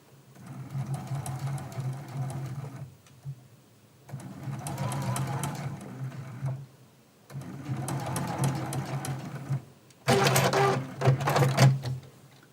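A longarm quilting machine stitches in four bursts of rapid, rhythmic mechanical whirring separated by brief pauses, the last burst louder and sharper.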